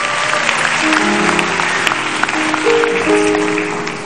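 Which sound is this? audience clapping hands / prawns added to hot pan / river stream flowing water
audience clapping hands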